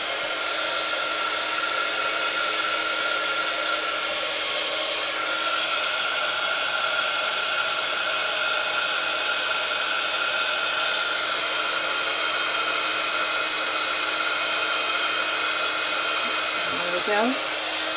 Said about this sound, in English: So I'm going to switch the gun on, the heat gun, and just leave it for a few seconds